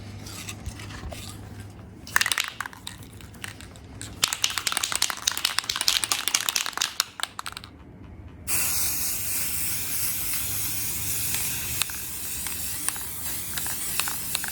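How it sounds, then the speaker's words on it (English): Rust-Oleum Bright Coat Metallic Finish is sprayed from an aerosol can onto furniture hardware in several close, hissing bursts, the last one long and continuous. "now we are going to use this Rust-Oleum Bright Coat Metallic Finish for the hardware"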